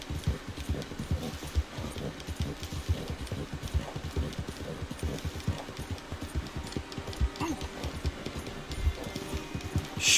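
Hooves of a white horse clip-clop steadily in Red Dead Redemption 2, a continuous close trotting rhythm over light rain-like ambience, with no talking.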